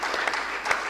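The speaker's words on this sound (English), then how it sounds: "Please clap for health workforce." Audience applause at a health training institutions dialogue event, a dense burst of clapping filling the whole short moment at steady loudness.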